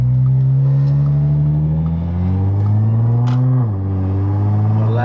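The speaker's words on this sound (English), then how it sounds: "Right now I have the ECS on, valves closed. It don't sound too bad." An Audi S4 B8.5 exhaust with an ECS system and its valves closed rumbles steadily up close, its drone rising and falling gently as the engine note shifts, with no talk over it.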